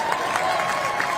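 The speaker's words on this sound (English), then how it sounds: "you better clap for that one." An audience claps and murmurs at a livestreamed welcome event, a steady wash of applause from a crowd heard throughout the short moment, with no single voice standing out.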